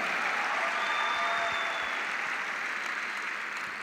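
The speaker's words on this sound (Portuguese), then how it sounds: "Agora dá uma salva de palmas para isso." A large forum crowd claps hard in a steady, dense wash of applause that holds throughout and eases slightly toward the end, with faint tonal sounds above it.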